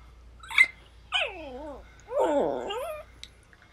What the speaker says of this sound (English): she has a dog in this video. And it's sniffing her breath.